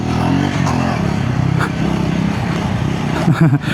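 A 2026 Triumph Scrambler 350X motorcycle runs at top speed, its engine a loud close drone with wind roar and a brief surge near the end.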